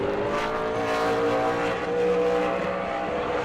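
A race car on a qualifying lap at New Smyrna in the ASA Southern Super Series, its engine note droning steadily and fairly loud throughout, with no pause or break.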